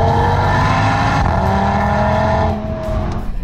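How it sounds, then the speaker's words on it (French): An Audi RS3's five-cylinder engine revs hard and steadily, its loud droning note holding high before dropping slightly as the revs ease toward the end. "le 5 cylindres possède une sonorité caractéristique, une vraie mélodie dont il sera rigoureusement impossible de se lasser"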